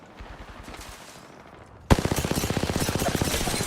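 Video game gunfire, where a few scattered shots give way to a sudden, loud burst of rapid automatic fire that rattles on in a fast, even rhythm until the end.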